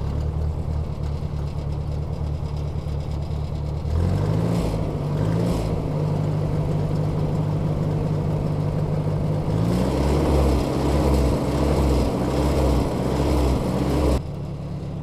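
Antique Ford tractor engine with a Marvel Schebler carburetor, adjusted to fix surging: a steady low idle, then two throttle-ups with a rising, rougher engine note before settling back, all near and loud with no talking.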